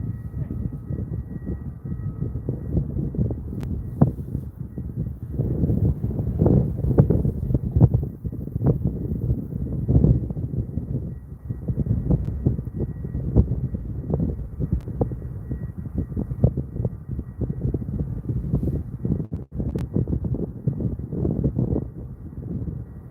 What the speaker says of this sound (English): Sounds very windy. It's a bit blustery.